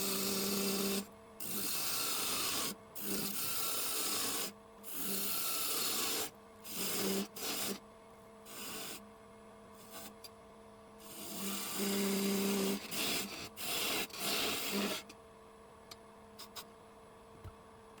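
A woodturning tool shaves the base of a spalted ash vase spinning on a lathe, giving repeated bursts of rasping cutting, each a second or two long and separated by short pauses, with a steady machine hum underneath.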